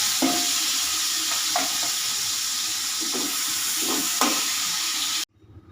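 Onion sautéing in hot oil with a little salt, a continuous close sizzle broken by several soft stirring knocks before it cuts off abruptly near the end.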